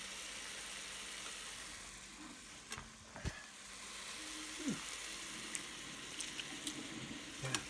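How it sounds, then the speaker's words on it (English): Soft, steady sizzling of sausage frying in a pan, with occasional clinks and scrapes of a utensil stirring. "you can hear the sizzle"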